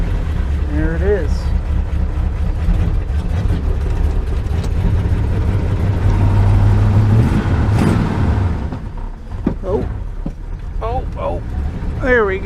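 The engine of a 1984 Dodge Ram D150 truck runs on choke, a steady, loud, rough idle that holds, then dips and wavers near the end while someone speaks over it.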